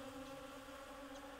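A bee buzzing close and steady, a continuous droning hum with no pauses, set in a quiet roleplay scene.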